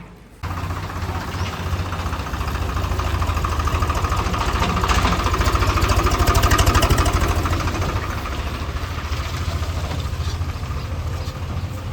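A tractor engine runs close by, a steady diesel chug with rhythmic knocking that swells slightly in the middle and keeps going without a break.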